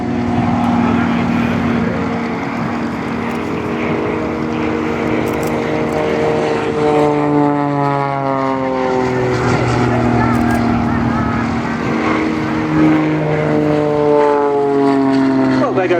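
A Stearman biplane flies past at the Shoreham airshow, its propeller engine droning loud and steady with a pitch that sweeps and shifts as it passes, while an announcer talks over the public address.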